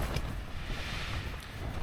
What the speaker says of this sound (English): rattling away the tent.